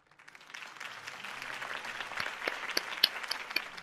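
Crowd applause in the Batman Telltale video game, a dense wash of clapping that swells in from silence after a rally speech and holds steady, with sharp individual claps standing out near the end.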